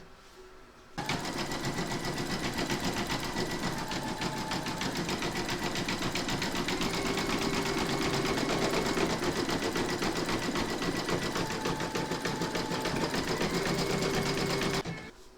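An embroidery sewing machine zigzag-stitches the raw appliqué edges of a large double-sided Santa, flesh-coloured thread running in a steady, continuous mechanical whir close by, alone after a brief quiet start.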